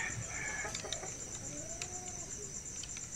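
Chickens clucking softly, with a faint rooster crow further off, amid a steady background hiss.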